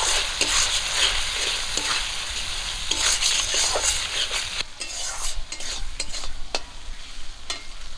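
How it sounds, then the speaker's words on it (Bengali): Turmeric, salt and chilli powder sizzle in hot oil in a pan while a spoon stirs and scrapes in repeated strokes, a steady frying hiss under clinks, with no talk. "সব কিছু ভালো করে ভাজা করব।"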